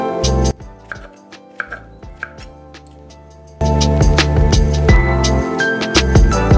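A knife chops onions and other vegetables into large pieces, striking the board in quick, sharp, close strokes with loud background music underneath.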